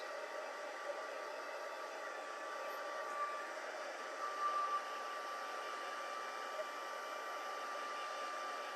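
A heat embossing tool blows hot air over embossed card stock, giving a steady, quiet, unbroken whir that lasts the whole stretch with no talking.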